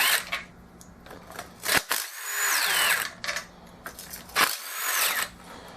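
Short bursts from a power tool spinning out the half-inch bolts on the bottom oil pan of a racing mower engine, several separate whirring runs with pauses between them, close by and fairly loud.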